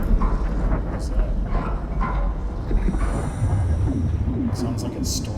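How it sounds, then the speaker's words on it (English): Low, continuous storm-like rumble in the sci-fi horror game SOMA, a broad steady roar filling the bass with faint higher hiss flickers on top, sustained throughout with no clear speech. "It sounds like a storm or something."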